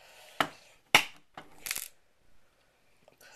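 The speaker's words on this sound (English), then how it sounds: "we will cut those with our aviator snips" Aviator snips cutting through a small coiled bundle of metal chainmail rings, giving a few sharp, close metallic snaps and crunches spaced about half a second apart, then a faint clink near the end.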